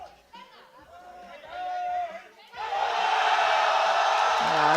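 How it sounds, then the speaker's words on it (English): A powerlifting championship crowd at the 2025 European Open Classic erupts into loud, sustained cheering and shouting after a final attempt, swelling from scattered voices and talk into a dense, continuous roar. "Wow, we love the energy from the crowd."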